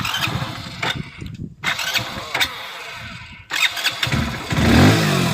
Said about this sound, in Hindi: की को ऑन करो और ये अपनी बाइक स्टार्ट हो जाएगी